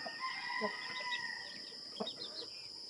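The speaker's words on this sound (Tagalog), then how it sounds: "Yan po yung mga chicken ko po dito." A few backyard pet chickens cluck softly in short, scattered bursts over faint steady background noise, fairly quiet and unhurried.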